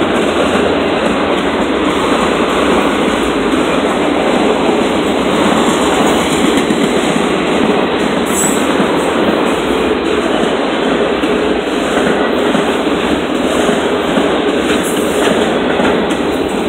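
A CSX freight train, locomotive 3124, rolls steadily through a crossing in Altamont, Illinois, its cars producing a loud, continuous rumble and clatter of wheels with no break for the whole stretch.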